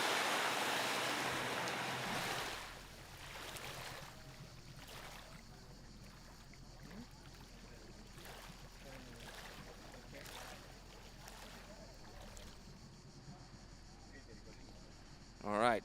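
A water-ski tow boat runs on open water at a European championship event, its engine a low, steady, distant drone under wind and lapping water, with a voice commentating over it.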